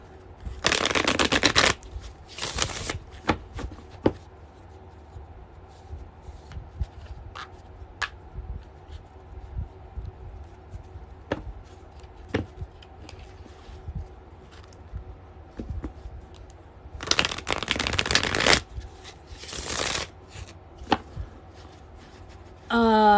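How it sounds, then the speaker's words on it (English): Tarot cards being shuffled by hand in two brisk bursts of rapid riffling flutter, near and fairly loud, separated by a long stretch of quieter handling, light taps and faint room noise. "Let me just do a shuffle here."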